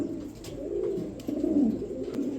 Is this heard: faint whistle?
no